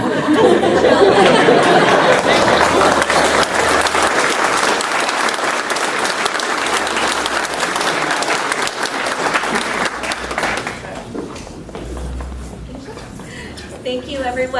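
Applause at a TSA awards ceremony for airport staff, with a crowd clapping loudly and steadily before tapering toward the end, mixed with background chatter.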